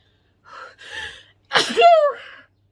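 Close up, a woman lets out two quick gasping inhales and then one loud, sharp sneeze that trails off into a voiced tail.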